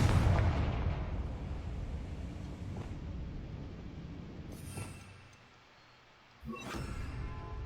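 Confringo fire spell explodes in Hogwarts Legacy, a loud, close burst that rumbles and decays, dips into near quiet, then gives way to a second sharp blast and renewed roar.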